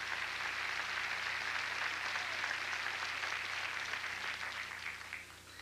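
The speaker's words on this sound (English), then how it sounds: "Give them a big round of applause." A studio audience at a 1990 Nashville Now television taping applauds with a faint, steady wash of clapping that tapers off at the end, with no voices over it.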